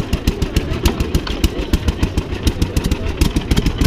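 An old-style engine with a manual choke catches and runs, firing in a loud, rapid, slightly uneven chugging rhythm close to the microphone, with no voices.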